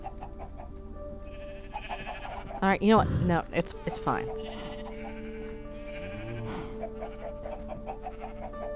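Sheep bleat repeatedly in Minecraft Sky Factory 2, a few wavering cries around the middle standing out over steady game background music, with someone talking over them.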